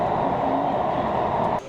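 Inside a metro train running in China: a steady, loud rumble of the carriage in motion that drops off abruptly near the end.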